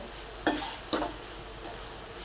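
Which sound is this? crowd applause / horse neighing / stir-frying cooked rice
stir-frying cooked rice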